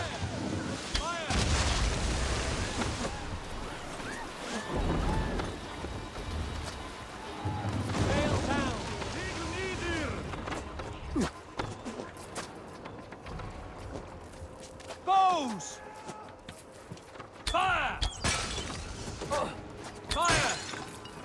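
Battle in Assassin's Creed Valhalla with archers loosing volleys of arrows: bursts of sharp impacts and crashes come in clusters amid shouted commands and combat noise, with quieter gaps between the volleys.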